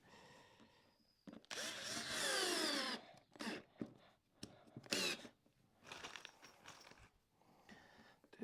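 Screws are driven into a wooden block with a faint, whining power driver that rises in pitch over several uneven bursts, with light woody creaks and crunches between them.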